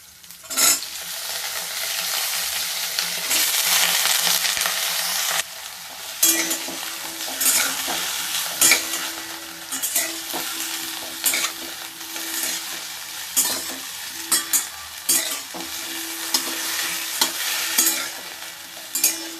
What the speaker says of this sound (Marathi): फोडणीमध्ये चांगलं फ्लॉवर आपण परतून घेऊया एक पाच ते सात मिनटं